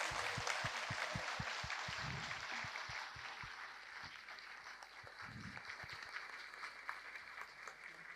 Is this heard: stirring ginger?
no